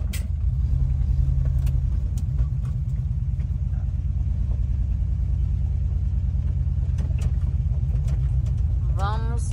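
A Volkswagen Kombi van leaking oil rumbles steadily as it pulls out of a campsite, its low engine drone continuous and close throughout, with people talking over it.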